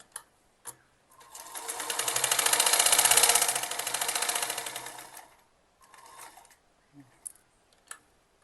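An electric sewing machine stitches a puffed kurti sleeve with a canvas layer, whirring in one steady run of about four seconds that swells and fades, followed by short bursts and a few sharp clicks.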